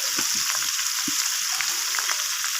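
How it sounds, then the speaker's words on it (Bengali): Prawns fry in hot oil with a sprinkle of salt, giving a steady close hiss and sizzle with occasional soft stirring taps underneath. "তো চিংড়ি মাছগুলোকে আমি একটু ভেজে নেব, খুব বেশি কড়া করে ভাজবো না।"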